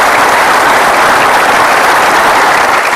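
Loud, sustained applause from a studio audience at a television talk show, a thick wash of clapping that stays constant and close throughout, with no speech over it.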